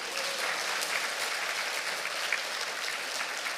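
A church congregation clapping during a Korean Sunday worship service, a dense, fairly faint patter of hands that stays steady throughout without voices.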